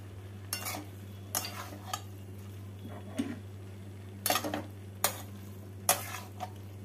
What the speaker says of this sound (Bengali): জিরে গুঁড়োটাকে ভালো করে মিশিয়ে নিচ্ছি।